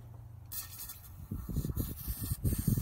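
Seafoam engine treatment sprayed through a hose into a car engine's valve cover: a faint hiss starts, then uneven bursts of spraying and sputtering grow louder and more irregular toward the end, with no talk.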